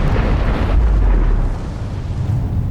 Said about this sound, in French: Le Big Bang.